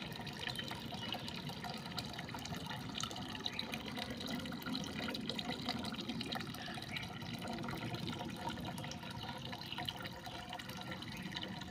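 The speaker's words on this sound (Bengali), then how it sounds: "আমি এখন নতুন করে পানি ছাড়ছি।" Water released from a source to irrigate young papaya plants in a farm plot, a steady rushing and trickling flow that runs evenly throughout with no talking.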